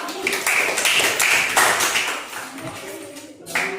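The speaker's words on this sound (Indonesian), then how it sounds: "Kasih tepuk tangan untuk kelompok 2." A classroom of students claps for a presenting group, a loose, continuous patter of hands over several seconds with a faint voice underneath.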